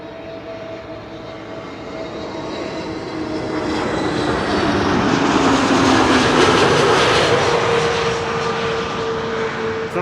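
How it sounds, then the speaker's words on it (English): Transavia Airbus A321neo arriving at Schiphol from Chania: a broad jet roar that swells steadily from a distant rumble to a loud, near pass around the middle and holds high to the end, with no talk. "Another A321neo from Transavia arriving from Chania."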